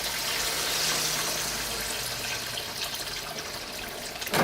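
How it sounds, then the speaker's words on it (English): About a liter of water pours into a cooking pot on the stove, a steady broadband splash and trickle running close and fairly loud for several seconds, easing near the end. "So I'll pour about 1 liter of water"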